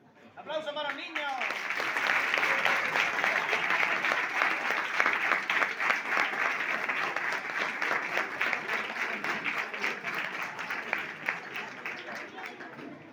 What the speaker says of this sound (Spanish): ¡Aplausos para los niños!